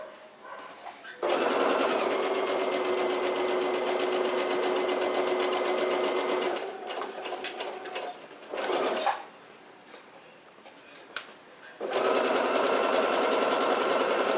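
Sewing machine stitching fabric in long, loud continuous runs, stopping briefly in the middle for a few short bursts, then resuming steadily near the end.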